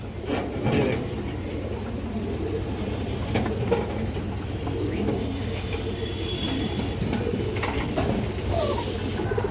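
A male and a female domestic pigeon coo close by, soft throaty calls repeating over a steady low background hum.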